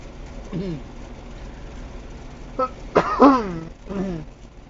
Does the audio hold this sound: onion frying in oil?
no